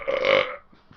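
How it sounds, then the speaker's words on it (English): A single loud, drawn-out belch from a man, lasting under half a second and rough and throaty, with no talk around it. "So leading up from that belch, how did that go?"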